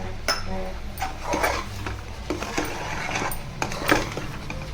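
Thick urad dal kali, a black gram dough, is worked in a pan with a spoon, giving repeated metallic scrapes and knocks in an uneven rhythm, close and fairly clear with no talking.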